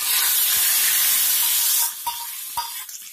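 Cumin seeds fried in hot ghee sizzle loudly as they are poured into pumpkin raita, a steady bright hiss that cuts off abruptly, followed by a few soft clinks of a spoon or pan.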